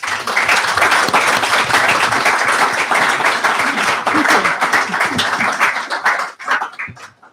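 A seminar audience on peacebuilding through education in South Sudan bursts into loud, sustained applause, dense clapping that carries for several seconds before thinning out into a few scattered claps.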